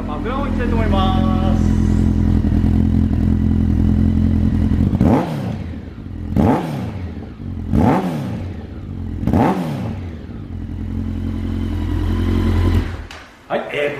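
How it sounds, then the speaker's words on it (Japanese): A Honda CB1300SF ABS Special motorcycle idles close to its Wyvern full titanium exhaust muffler, then gets four quick throttle blips that each snap up and drop back to idle, loud and near. "はい、ではマフラーをいきたいと思います。"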